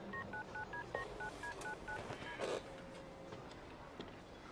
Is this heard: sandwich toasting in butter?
no